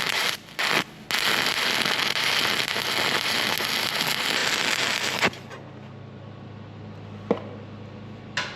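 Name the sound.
welding a steel bracket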